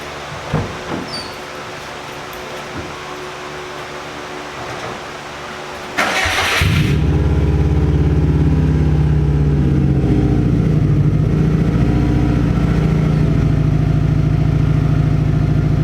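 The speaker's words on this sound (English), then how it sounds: "we're gonna turn on the car and see it in all its glory" A rear-wheel-drive-swapped Subaru WRX STI sits quiet with a few faint clicks, then its engine cranks and fires with a sharp burst before settling into a loud, steady, throbbing idle.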